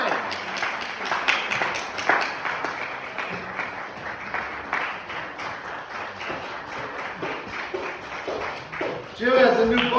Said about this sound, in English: Let's have a round of applause for Jim